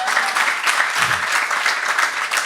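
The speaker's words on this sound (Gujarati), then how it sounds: "તાળી પાડીએ." A seminar audience claps together in a dense, even burst of applause that holds steady from start to finish.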